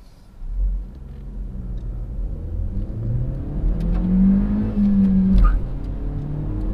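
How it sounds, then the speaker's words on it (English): A 2014 Chevrolet Cruze 1LT accelerates through the gears, its engine rumbling and rising in pitch with each run-up, then dropping briefly at every upshift, heard close and steady with no talking. "So now we're going to do a quick acceleration through the gears."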